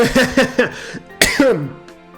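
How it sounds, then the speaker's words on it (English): A short burst of several harsh coughs close to the microphone, followed by a final louder cough and throat clearing. "I'm punished by a cough"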